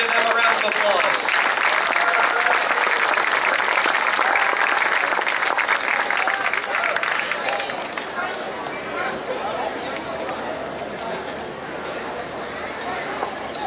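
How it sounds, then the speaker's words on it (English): Audience applauding varsity athletes at a school awards ceremony, sustained clapping with crowd chatter that gradually thins and fades toward the end. "Give them a round of applause."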